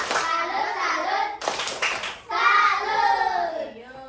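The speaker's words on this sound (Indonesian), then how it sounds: "Tepuk salut untuk kelompok 2." A sixth-grade class of children performs a tepuk salut, a clapping chant, in a classroom: loud group chanting carries most of the moment, broken by a short burst of crisp clapping in the middle.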